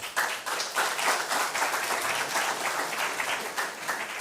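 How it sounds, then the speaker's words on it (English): A school quiz audience claps for a senior high team, a dense, fairly even round of applause lasting a few seconds with individual claps audible in the mix and no speech over it. "Give them a round of applause, please."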